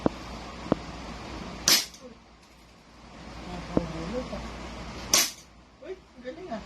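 Two sharp gunshots from a Beretta handgun crack out about three and a half seconds apart, fairly loud against a quiet background, with faint voices and a few small clicks between them.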